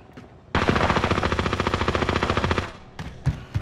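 A loud, sustained burst of rapid automatic gunfire in Call of Duty Warzone lasts about two seconds, its evenly spaced shots close and punchy, followed by a few scattered single shots and thuds.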